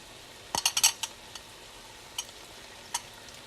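A utensil stirs green curry macaroni with basil in a pan, giving a quick cluster of close metallic scrapes and clinks, then a few isolated taps against the pan.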